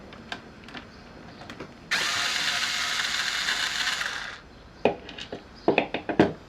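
Ratchet wrench loosening the terminals on a Halfords Ring Powerpack 200 battery pack: a long steady ratcheting buzz for about two and a half seconds, then a series of sharp clicks and knocks, close and clear with no talk.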